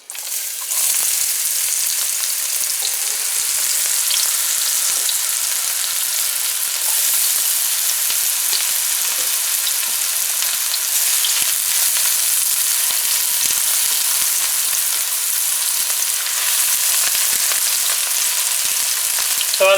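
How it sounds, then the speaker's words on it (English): Chopped onions and scallions fry in oil in a pan, giving a steady, close hiss and sizzle that carries on evenly throughout. "So we've added some oil to our pan. And we're going to add the chopped"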